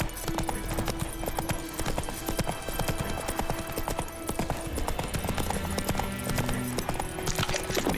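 Horse hooves galloping in the video game The Witcher 3, a steady rapid clip-clop rhythm running throughout, loud and close over a busy game soundscape with low music-like tones.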